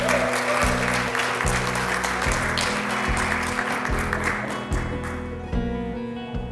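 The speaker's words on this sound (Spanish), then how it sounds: "Un aplauso para ella." Audience applause fills a workshop gathering in Tulum, loud and sustained dense clapping over a steady musical bed, tapering slightly toward the end.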